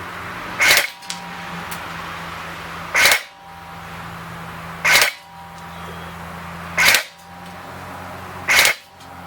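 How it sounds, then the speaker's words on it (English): King Arms Colt M4A1 metal AEG airsoft rifle firing semi-auto, five sharp single shots spaced about two seconds apart, each a loud close snap over a faint motor whine. "I'm going to shoot 10 rounds to see how accurate we are in semi-auto."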